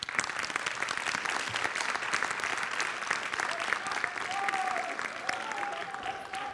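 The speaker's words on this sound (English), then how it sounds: "Round of applause for Yusuf" Sustained applause from an audience at a journalism conference keynote, a steady dense wash of clapping that holds at an even level throughout, with a faint voice briefly audible underneath near the end.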